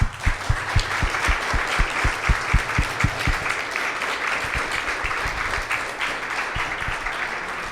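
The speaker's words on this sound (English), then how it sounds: "Big round of applause, everyone." Audience applause at a tech fireside chat networking event in Miami: dense, sustained crowd clapping that holds steady for several seconds, a few louder individual claps standing out near the start before the sound settles into an even wash.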